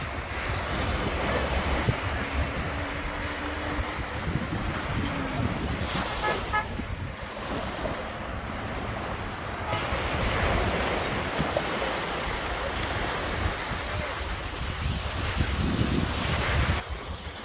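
Sea waves at a Marsa Matruh beach, a continuous roar of surf with wind buffeting the microphone, steady and close throughout.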